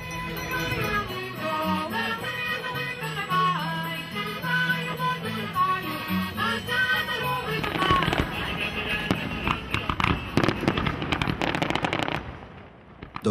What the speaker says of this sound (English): ends in a spectacular firework display lighting up the River Lima